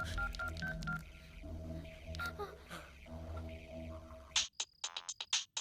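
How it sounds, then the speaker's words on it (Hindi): A telephone number is dialed as a quick run of distinct touch-tone beeps, sharp and clear after a stretch of background music and room sound. "नैमसन को फोन लगा तो जल्दी से।"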